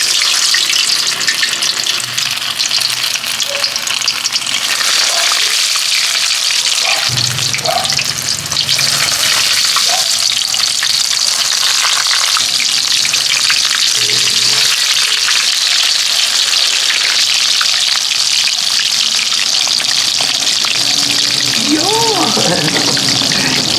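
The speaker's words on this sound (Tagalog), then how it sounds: "So, pwede na natin siyang iprito." Eggplant rolls filled with minced pork frying in hot oil give a steady, loud sizzle across the whole stretch, with a few soft clinks and stirring noises breaking through it now and then.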